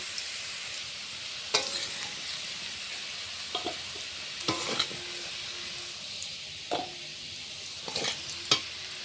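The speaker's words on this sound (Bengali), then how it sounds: "আলুটা ভাজা হয়ে গেছে" Potatoes fry in oil with a soft, quiet sizzle, while a utensil stirs and scrapes the pan in a few sharp knocks; no voices.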